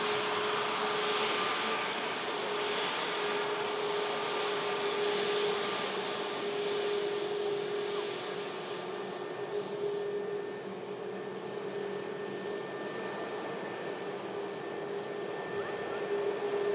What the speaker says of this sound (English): Let's take in this Pegasus A321neo aircraft coming in from Istanbul following 3 hours and 40 minutes of flight time.